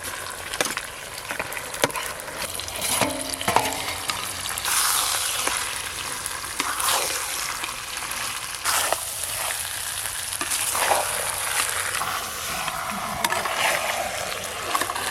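Goat mutton marinated in salt, turmeric and mustard oil fries steadily in a pan, a dense, continuous sizzle with occasional scraping stirs and spoon knocks, fairly close and with no talking.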